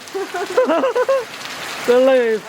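Steady rain falls throughout, a soft continuous hiss running under a person talking in the foreground.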